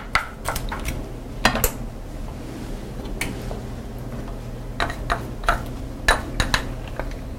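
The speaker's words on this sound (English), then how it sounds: "And we saute the onions. And the garlic." A utensil clinks and scrapes against a preheated pan while onions and garlic are sauteed, giving irregular metallic knocks in small clusters over a soft background, close by and without speech.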